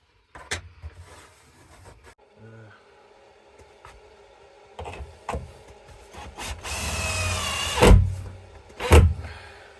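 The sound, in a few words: power drill screwing batten into van shower wall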